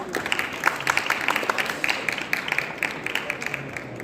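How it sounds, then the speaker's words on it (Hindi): A seated audience at a book-fair program claps in welcome. The hand claps come as distinct, brisk strikes blending into moderate applause with a faint murmur beneath. "तालियों से स्वागत किया जाएगा सबका।"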